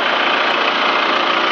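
Cat 3024CT diesel engine idling in a 2004 ASV RC60 skid steer after a head gasket repair, a steady, even mid-pitched rumble held close and loud for the whole stretch.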